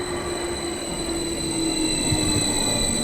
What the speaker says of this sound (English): I wish I could just take this train that's pulling in now